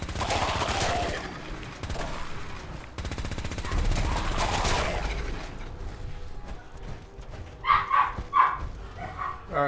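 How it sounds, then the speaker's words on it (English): A household dog barks a few times in quick succession near the end, heard over loud, continuous gunfire and explosions from Fallout 4 gameplay. "sorry about my dog"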